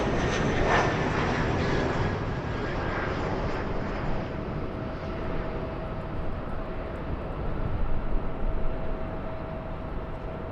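An Embraer E175 jet airliner roars steadily at LAX, a loud sustained broadband engine rush that holds throughout with slight swells, with no one speaking.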